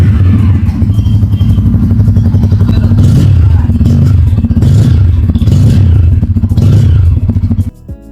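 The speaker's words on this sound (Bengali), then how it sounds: "এবার আমরা বাইকটির ইঞ্জিন সাউন্ড চেক করি" A Bajaj Pulser N250 motorcycle engine idles and revs close up, a loud steady rumble with several rising blips of throttle before it cuts off near the end.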